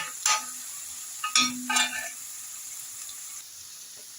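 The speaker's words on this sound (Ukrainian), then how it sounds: "Цибульку помішую." Onions and grated carrots are stirred in a pan for a vegetable stew, a few bursts of spatula scraping over a faint low sizzle that fades toward quiet.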